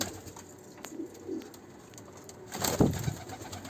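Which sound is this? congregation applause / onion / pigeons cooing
pigeons cooing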